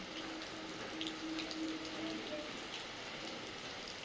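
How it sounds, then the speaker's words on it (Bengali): Soft, steady patter of rain falling outside, a faint continuous hiss with occasional drips, with a low faint hum briefly underneath. "এখনও জানো তো বৃষ্টি পড়ে যাচ্ছে বাইরে"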